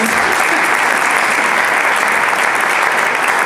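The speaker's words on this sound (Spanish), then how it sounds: "pues muchísimas gracias a Daniel y a Bruno, les podéis aplaudir." Sustained applause from a crowd, steady and full throughout with no pauses.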